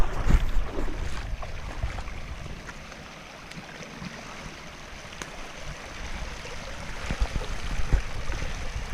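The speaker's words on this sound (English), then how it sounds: "As the water level rises in the winter, more water spills over this concrete" At a lake outflow creek, water spills over a concrete slab with a continuous rushing, splashing flow, steady and close, swelling slightly louder at the start and near the end with no talking.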